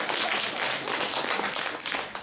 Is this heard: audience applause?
yes